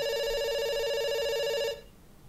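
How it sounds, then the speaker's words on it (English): An outgoing call ringing in the video game Dr. Langeskov: one long, loud, steady electronic ring tone with a rich buzzy timbre, lasting nearly two seconds and then cutting off into quiet background. "It's ringing."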